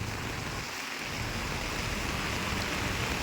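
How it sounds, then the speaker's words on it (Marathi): Heavy monsoon rain pours down near a flooded river bridge in Beed, a dense, loud, unbroken hiss of falling water throughout. "परत एक वेळेस पाऊस मुसळधार सुरू झालेला आहे"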